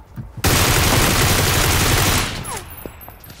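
Heavy automatic gunfire in PlayerUnknown's Battlegrounds erupts loud and close, a dense sustained burst of rapid shots lasting nearly two seconds before cutting off into a few scattered trailing shots.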